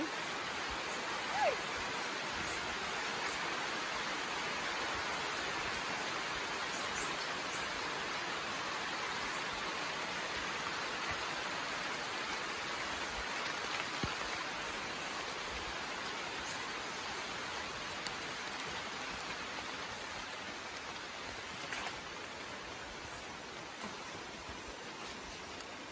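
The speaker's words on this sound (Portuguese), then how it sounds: "A chuva tá caindo." Steady rain falls in the Amazon forest, a continuous broadband hiss of drops on leaves that stays even and fairly faint throughout.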